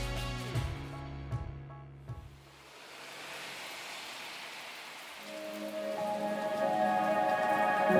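Heavy rain pours down during an ultra cycling ride in East Java, a dense hissing wash that fades in after an opening stretch of music and stays loud and steady to the end.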